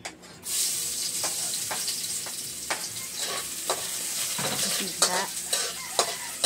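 Garlic sizzles in a pan for garlic fried rice (sinangag), a steady close frying hiss broken by intermittent stirring scrapes and soft utensil clicks, without any talking.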